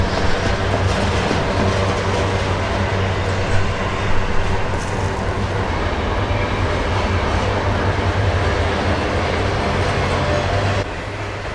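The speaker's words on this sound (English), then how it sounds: "that's train number 3" A train rumbles past on a main rail line with a steady low drone and faint clickety-clack, loud and close for most of the clip before easing off.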